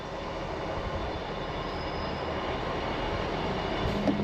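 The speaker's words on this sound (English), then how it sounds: "And here's our train back to Leeds," A train arriving at a station in England, bound for Leeds, makes a steady broad rumble of wheels and motors throughout with no speech, and a faint squeal rises near the end.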